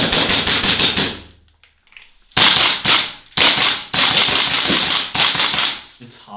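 An airsoft gun fires in rapid bursts of sharp snapping shots, loud and close, with a short pause before more quick strings of shots.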